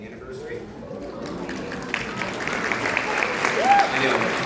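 An audience at a middle school band concert breaks into applause, a spreading patter of clapping that builds gradually and grows fuller toward the end, with voices talking over it.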